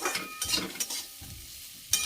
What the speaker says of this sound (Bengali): বন্ধুরা আবার এখন হচ্ছে আলুটা ভাজা হয়ে গেছে